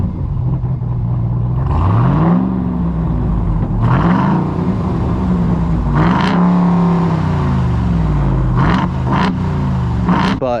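A Ram TRX truck with aftermarket mufflers revs up repeatedly, deep exhaust rumble climbing and falling in several throttle blips, loud and close with no talking.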